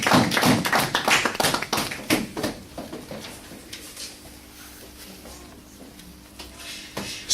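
Church congregation clapping during a Sunday worship service, loud dense applause at first that thins into scattered claps and fades toward the end.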